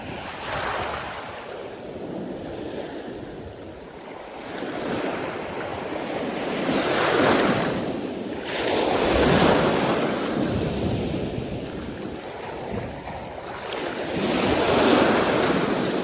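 Sea waves breaking on a rocky shore at dusk, rolling in as repeated swelling surges every few seconds with wind buffeting the microphone, close and loud, no voices.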